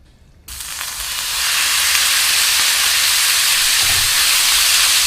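Pork hitting a hot non-stick wok with sunflower oil, bursting into a loud, steady sizzle after a brief quiet start and holding strong and close to the end.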